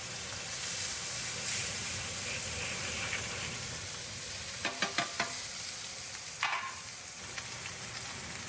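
Beef tallow sizzles steadily in a hot, smoking pan, a close continuous hiss with a few brief clinks of a utensil partway through.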